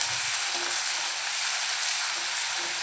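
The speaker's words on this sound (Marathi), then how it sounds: "तो घालून घेऊया आणि परतवून घेऊया कांदा नरम होईपर्यंत" Finely chopped medium onion sautéing in a pan for Malvani-style sprouted val birde, a constant loud, even hiss of frying that fills the whole moment without talk.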